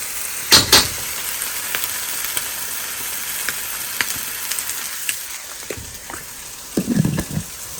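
A homemade teriyaki-style mix of soy sauce and a spoon of sugar is stirred by spoon, giving a couple of sharp clinks at the start and again near the end over a soft, steady hiss.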